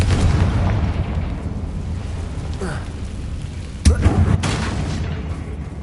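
In Hogwarts Legacy, a Confringo spell explodes with a short, punchy blast a little past halfway, set against a constant rumbling game ambience.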